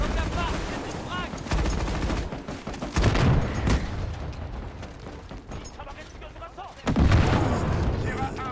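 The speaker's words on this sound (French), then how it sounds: "Mitrailleuse ennemie dans le bunker." Enemy machine gun firing from a bunker in a Modern Warfare video game: loud, sustained bursts of automatic fire with heavy booms and battle noise, under shouted voices.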